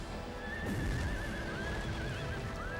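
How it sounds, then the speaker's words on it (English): Frightened horses neighing and whinnying in the video game Drakengard 2, several long wavering calls over a dense, steady game soundscape with faint hoof clatter, fairly loud and continuous. "Scaring all the horses."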